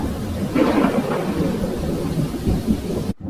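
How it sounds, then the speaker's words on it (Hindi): Heavy rain with thunder as a sound effect, a dense, loud downpour hiss with a booming rumble early on, continuing steadily until an abrupt cut near the end. "तभी बहुत तेज बारिश होने लगी"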